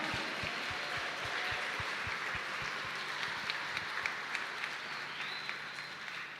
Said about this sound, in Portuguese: Então brada uma salva de palmas para Jesus.